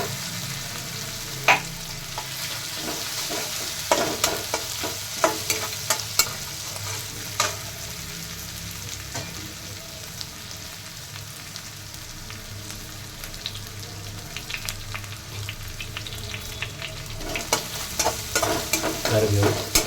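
Ginger garlic paste fries in hot oil for a chicken masala gravy, sizzling steadily while a spoon stirs it with frequent scraping clatters against the pan, close and clear.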